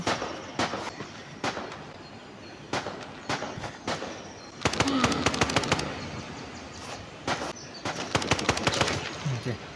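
Gunfire in the GoreBox video game: rapid bursts of sharp shots in irregular clusters, some fast automatic strings, loud and close against a noisy game background.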